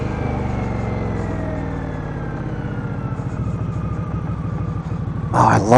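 A 2015 Indian Scout motorcycle engine rumbles close and steady with a rising whine as it runs and revs, growing louder in a final burst, no talk.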